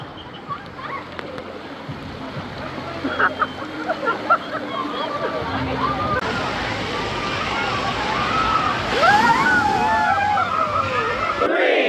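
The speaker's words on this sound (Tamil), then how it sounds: "இந்த வாட்டர் கேம்லேயே எனக்கு ரொம்ப பிடிச்சது இந்த வேவ் பூல் தான்." Broad, continuous water sloshing and splashing in an amusement park wave pool at Wonderla, Bangalore, rising in intensity, with occasional bird calls and distant crowd noise mixed in.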